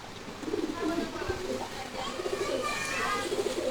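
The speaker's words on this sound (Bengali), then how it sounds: "এখানে দেখার মতো এক জোড়া কবুতর আছে, এটা ইরানি হুমা বলে, ইরানি সাদা হুমা" A pair of white Irani Huma pigeons on a pigeon farm coo softly in low, rolling phrases that repeat through the stretch, with a faint voice and background noise around them.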